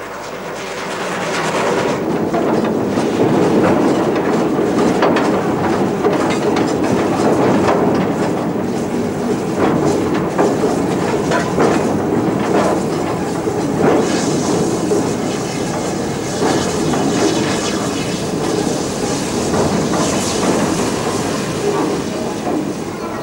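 The GWR steam locomotive City of Truro runs on a British main line, giving a loud, continuous rumble with rhythmic clickety-clack of wheels over rail joints and a steady hiss that carries throughout.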